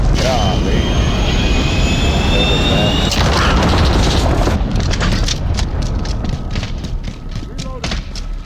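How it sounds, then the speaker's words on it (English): An incoming cruise missile in the video game Call of Duty: Modern Warfare roars loudly and close like a jet, then breaks into a series of heavy thuds and booms that fade toward the end. "Enemy cruise missile incoming."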